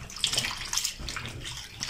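Arrowroot corms are washed in water, with continuous splashing and sloshing as they are rubbed and swirled by hand in a basin, close and fairly loud.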